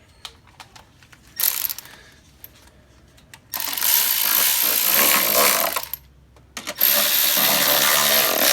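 A ratchet or power ratchet runs bolts down on a Ford Focus engine, sounding as a short whir followed by two longer, loud buzzing runs with a brief pause between, close up and with no talk.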